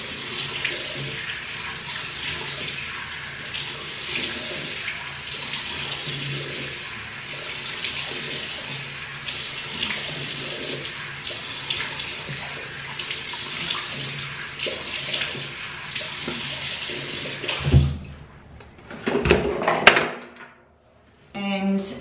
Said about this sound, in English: I'm just gonna splash my face.